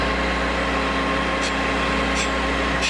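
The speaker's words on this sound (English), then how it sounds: "bring the grinding wheel past the tip of the drill" A grinding wheel runs past the tip of a drill bit on a precision grinder, a steady, loud motor hum with a constant drone and faint, brief hissing touches of the wheel recurring roughly every second.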